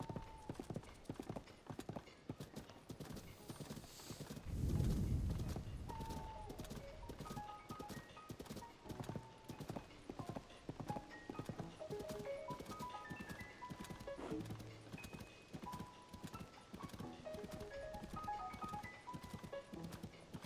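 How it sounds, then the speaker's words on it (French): Horse hooves clip-clop steadily in Zelda: Tears of the Kingdom, a fast rhythmic run of close, crisp game hoofbeats with a brief snort or whinny early on and game music playing underneath. "Je vais tenter de libérer le cheval."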